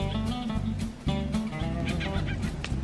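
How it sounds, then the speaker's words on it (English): A bird squawks and clucks in quick, raspy bursts close to the microphone, a run of odd honking calls without pause, at a Colorado campground by Turquoise Lake near Leadville. "The bird makes some funny noises."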